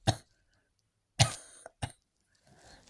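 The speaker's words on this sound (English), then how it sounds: "I have a cough now." One person coughs several times, close and fairly quiet: a single cough, a pause, then two quick coughs, with a faint throat sound trailing at the end.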